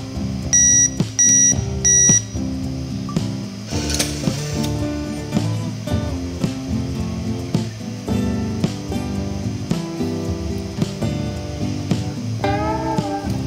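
DenAku digital Bundy clock beeping as button 6 is held down, giving a cluster of short electronic beeps alongside mechanical clicks and ratcheting, with a louder whirring burst near the end. No voices are heard.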